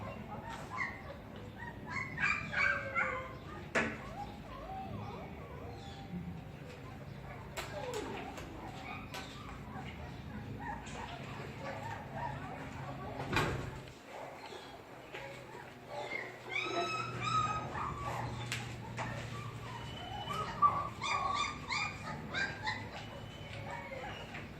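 A newborn puppy being tube fed gives repeated soft whimpers and squeaky cries, scattered across the clip over a close, low background.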